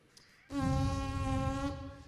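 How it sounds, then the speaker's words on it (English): Lips buzz into a brass instrument mouthpiece, making one close, sustained, reedy buzzing tone that starts abruptly and holds for just over a second before fading. "in that mouthpiece, they buzz like this"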